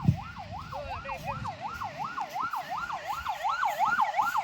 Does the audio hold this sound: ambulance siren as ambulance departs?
yes